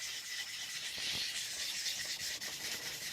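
A knife blade rubs steadily across a DMD resin bonded diamond sharpening plate under light pressure to remove a burr, making a continuous close, even scraping hiss with no speech.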